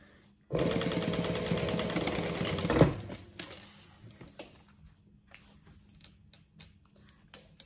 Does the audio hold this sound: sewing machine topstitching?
yes